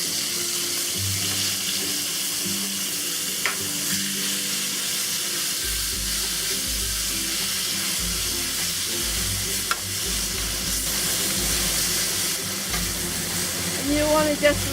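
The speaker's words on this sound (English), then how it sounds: "We'll add a generous amount of oil. And we'll cook the fish first." Fish fillets fry in a generous amount of hot oil in a pan set to medium-high heat for a Sichuan-style stir fry with pickled chili, giving a loud steady sizzle with occasional clinks close by.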